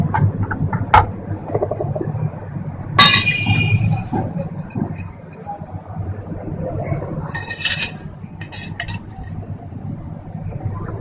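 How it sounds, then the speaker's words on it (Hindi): Oil poured into a spice mixture and stirred in a bowl for a masala paratha, with clinks and scraping against the bowl, some metallic taps and rustling, and busy kitchen noise underneath. "तो मैं इसमें थोड़ा सा तेल और भी डालूंगी, तकरीबन 2 टेबल स्पून के करीब"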